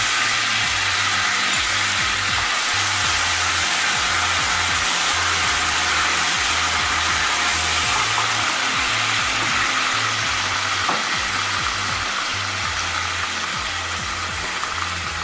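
Onions frying in hot oil for a chicken bhuna give a steady, dense sizzle that holds at the same level throughout, with no voices over it.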